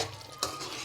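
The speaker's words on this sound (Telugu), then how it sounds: "అయితే కలుపుకుందాం." A spoon stirs a sour gongura and dried fish curry in a cooking pan, a soft sizzle under a brief scrape of metal against the pan.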